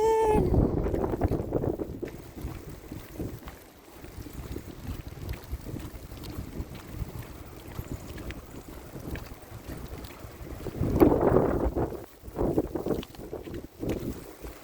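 Wind blowing through wet snow and rain outdoors, gusty rumbling buffets against the microphone, strongest at the start and again near the end.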